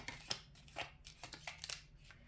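A new deck of tarot cards is shuffled by hand, giving soft, quick riffling and sliding bursts that repeat in an uneven rhythm, faint and close, with no voices.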